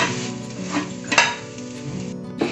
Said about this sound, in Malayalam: സേമിയ തീ കുറച്ചിട്ട് നമ്മൾ വറുത്തൊരു ചുവക്കുന്ന രീതിയിൽ വറുത്തെടുക്കുക.